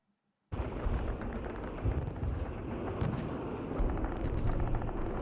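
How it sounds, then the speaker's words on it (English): A dense, continuous barrage of booms and blasts in a video game battle starts abruptly and rolls on without pause, loud and chaotic, like heavy cannon fire on a battlefield. "You guys hear the sounds of thousands of explosions."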